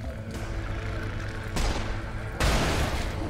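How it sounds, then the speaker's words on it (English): Fire extinguishers bursting in the Serious Sam: Siberian Mayhem shooter, heard as two loud broadband blasts over steady game noise and music, each explosion sharp and close. "do these extinguishers explode too?"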